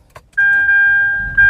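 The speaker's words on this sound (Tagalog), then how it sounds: "ito yung makikita nyo kapag in-start natin yung sasakyan." A 2025 Mitsubishi Xforce powers up, giving a short click followed by a steady, loud electronic chime tone that holds and then brightens near the end, with no talking.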